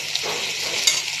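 Boiled potato, green banana and soybean fry in a pan, a soft, steady sizzle with a couple of brief stirring clinks.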